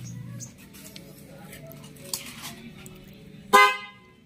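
A newly installed pair of vehicle horns fitted alongside the stock horn sounds on a switch test, a faint toot followed by one loud, close, brassy blast near the end, with quiet talk and workshop noise before it.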